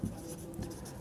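A pen scratches briefly across paper while a math solution is worked out, giving a short, soft, close scraping stroke with a small tap at the end.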